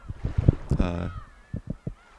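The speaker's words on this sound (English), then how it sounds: "But, well, seagulls are crying." Seagulls crying in the main menu of the visual novel Umineko, a few nasal honking calls followed by a longer drawn-out cry, then more short squawks, close and clear.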